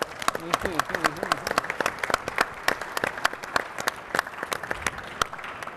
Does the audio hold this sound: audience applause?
yes